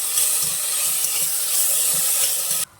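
Potato pieces stirred with ginger garlic paste, salt and turmeric in a hot pan, a steady close sizzle and hiss with soft rhythmic scraping throughout, cutting off abruptly at the end.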